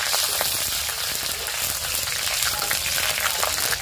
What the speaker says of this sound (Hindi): हरी मिर्च को हल्का सा देखिए भून लिया है, लाल कर लिया है